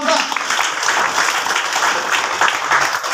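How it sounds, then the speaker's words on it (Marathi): Seminar audience breaking into sustained applause, dense overlapping clapping that stays loud and even throughout with a faint murmur of voices underneath. "माझ्या सर्व अपलाइनसाठी एकदा जोरदार टाळ्या झाला पाहिजे, जोरदार"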